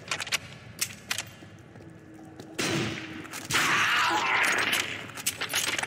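Gunshots in The Darkness shooter game: a few sharp isolated shots early, then a louder sustained burst of firing with crackling impacts, close and alone without talk.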